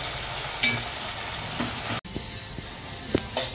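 Chopped onion frying in oil until brown for a crab curry, a steady close sizzle with occasional clinks and stirring scrapes, no talking.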